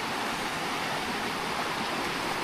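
A river on a forest homestead flows steadily, a dense, even rush of water close by with no break for the whole stretch and no voices over it.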